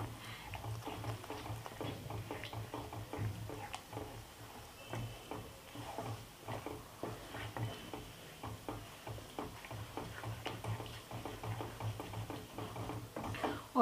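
Besan mixture being stirred in a cooking pan for a spicy besan-and-brinjal curry, with a steady soft patter of spoon ticks and scrapes against the metal, fairly quiet and continuous with no talking.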